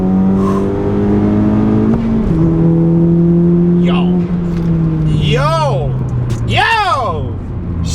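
A 10th gen Honda Civic Si with an upgraded turbo accelerating hard in second gear, engine pitch climbing steadily through a long pull heard from inside the car, with people shouting excitedly over the engine near the end.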